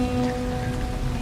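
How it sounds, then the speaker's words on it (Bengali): Light drizzling rain falls steadily under a dark, heavily clouded sky, a soft continuous patter on surfaces with a faint low hum beneath, heard alone without any voices. "ঝিরিঝিরি বৃষ্টি হচ্ছে।"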